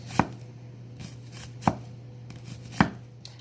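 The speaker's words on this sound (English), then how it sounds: "Let's get this cut up." A knife chops food for a brownie and cornbread dressing meal, three sharp, well-spaced thuds on a cutting board against a low background hum, close and clear with no talking.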